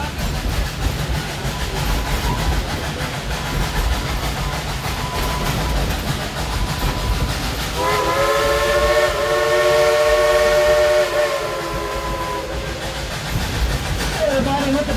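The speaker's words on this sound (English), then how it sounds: "Everybody look at the engine and wave to your engineer, Julie." A Dollywood steam train, Klondike Katie, rumbles along with heavy mechanical noise, then a loud multi-tone steam whistle sounds for several seconds before fading back into the running train.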